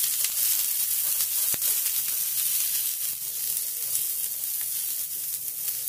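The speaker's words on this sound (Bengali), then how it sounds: "এখন আমি এই তেলের মধ্যে দিয়ে দিচ্ছি পেঁয়াজ কুচি। পেঁয়াজ কুচিকে মিনিট খানেক নেড়ে চেড়ে নেব।" Chopped onion fries in hot oil in a frying pan, giving a steady, close, bright sizzle that holds evenly throughout, with one sharp tap partway through.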